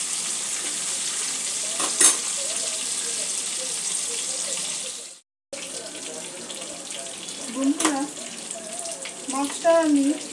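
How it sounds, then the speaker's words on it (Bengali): Pieces of aar fish shallow-fry in a pan over a medium flame, a steady close hiss and sizzle broken by a short silent gap and a few faint scraping turns. "এইভাবে এপিট ওপিট করে সব দিক ভালো করে একটু লালচে করে ভেজে নিতে হবে।"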